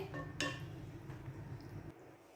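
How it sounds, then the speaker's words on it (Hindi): A metal lid comes off a cooking pot of chicken biryani with one sharp clink of cookware, then faint soft handling sounds in a quiet kitchen. "अब यहाँ पे हम इसका कवर उतारेंगे"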